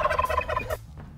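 Turkeys gobble on a farm, a loud, close burst of rapid warbling gobbles that stops abruptly, leaving quiet background noise.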